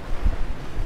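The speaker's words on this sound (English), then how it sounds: "Starting to get a little bit windy now." Gusty seashore wind buffets the microphone during shore float fishing as the sea turns choppy, a brief steady low rumble with no voices.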